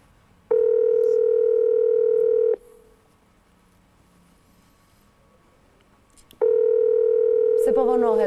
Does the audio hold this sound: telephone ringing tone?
yes